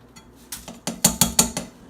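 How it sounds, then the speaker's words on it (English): Rinsed quinoa goes into a pot, making a quick run of metallic clinks and knocks that builds from soft taps to several sharp, close clatters. "And now we're gonna put it in the pot."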